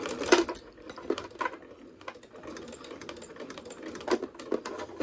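A home sewing machine stitches a door latch cover with elastic, in short uneven bursts with pauses, close by and moderately loud, with light clicks and handling noises between runs.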